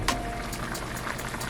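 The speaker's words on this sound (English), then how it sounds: "we're gonna let this simmer" A pot of rice and peas simmers on the stove, giving off a soft, steady bubbling hiss with a brief brighter splash near the start, fairly quiet and with no talking.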